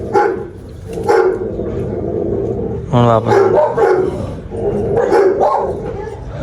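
Dogs bark in short, sharp bursts near the listener. Loud conversation runs over and between the barks.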